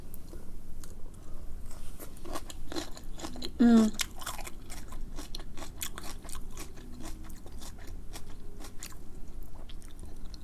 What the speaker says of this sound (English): And I'm the only one who eats kimchi in my household